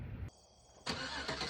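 A car engine cranks and catches, then settles into a steady running hum that surges briefly louder as the car gets ready to drive off.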